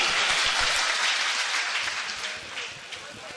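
The audience at an Urdu mushaira poetry gathering in Chandausi claps for the microphone operator, a thick, close burst of applause that stays full and then tapers slightly toward the end.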